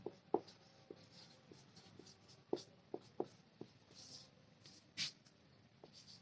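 Pen or chalk writing out a simple compound-interest math problem, heard as quiet, sparse scratches and taps with short strokes and pauses between them, and no voice.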